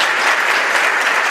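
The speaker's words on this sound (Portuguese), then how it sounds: "Vocês merecem uma salva de palmas, viu?" An audience at a Catholic priest's talk bursts into a short, dense wash of loud applause, steady throughout with no voices over it.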